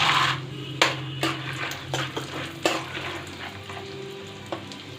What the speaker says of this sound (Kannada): ಇದೆಲ್ಲ ಸ್ವಲ್ಪ ಡೀಪ್ ಫ್ರೈ ಆಗಬೇಕು.